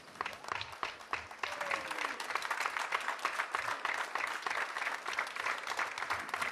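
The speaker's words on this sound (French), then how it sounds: "je demanderai à toute la troupe de vous applaudir" A theatre troupe in a local Arlon revue applauds its audience, a fairly faint but steady round of many hands clapping, picking up after a second and continuing for several seconds.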